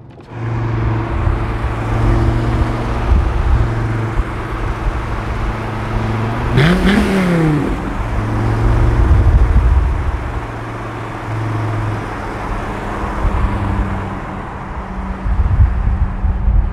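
A Dodge Viper's engine hums steadily from inside the moving car, a low droning tone that swells briefly in pitch as it revs midway, then settles back into a continuous, fairly loud cruise.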